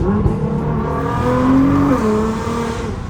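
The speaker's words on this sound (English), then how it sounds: "You actually hear the exhaust tone." A Nissan GT-R sports car engine hums steadily with a deep exhaust tone, rising and dipping slightly as it revs, close and loud with no talking.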